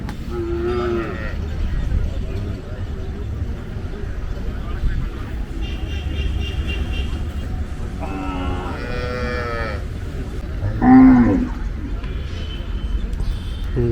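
Cattle low at the Palayakottai native cattle market, where a cow has a week-old calf: several drawn-out moos rise over a constant bustle of people talking nearby, the loudest call coming late.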